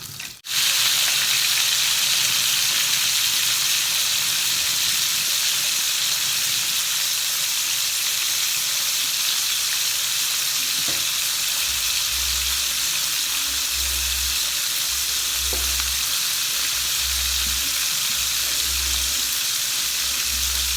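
Fish frying in oil with a little salt to curb the spattering, a dense, loud, continuous sizzle and hiss close by, with faint low rumbles and no talking.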